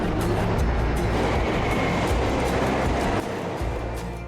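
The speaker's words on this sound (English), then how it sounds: "I always just take the train." A train rides along the rails, a loud, steady rumbling roar with faint rhythmic clacks that continues throughout and eases slightly toward the end.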